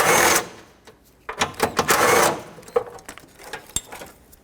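A ratchet and socket work the 10mm bolts holding the AC condenser on a 2005-2010 Pontiac G6, in loud bursts of fast clicking separated by quieter taps and knocks of metal.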